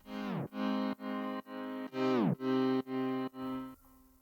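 A piano chord layer in an FL Studio drop, played as eight loud, even stabs; two of them plunge downward in pitch with a tape-stop effect before the final stab fades out alone.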